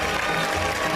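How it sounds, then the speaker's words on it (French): Crowd applause at a course landaise (cow-leaping) event in Orthez, steady broadband clapping filling the whole moment, fairly loud and continuous with no pause. "il mérite des applaudissements parce que là vraiment, chapeau messieurs. Plus fort que ça, plus fort que ça."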